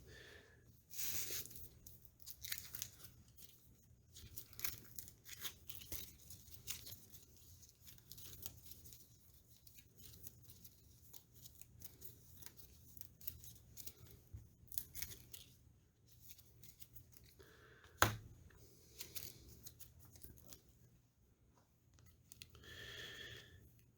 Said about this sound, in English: but at least these cards are all getting shuffled now